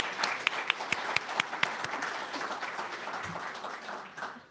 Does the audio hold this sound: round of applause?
yes